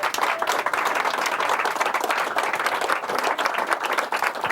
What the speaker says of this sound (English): And you get a nice round of applause